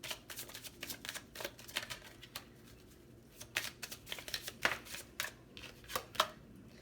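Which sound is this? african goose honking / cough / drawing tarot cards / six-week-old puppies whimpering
drawing tarot cards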